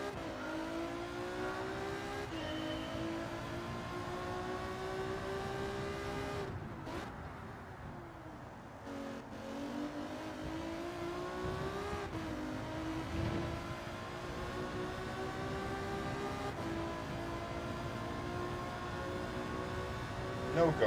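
A race car in Gran Turismo 7 drives around a track with a continuous engine drone that rises and falls through shifts and braking, steady and close throughout with a brief dip midway.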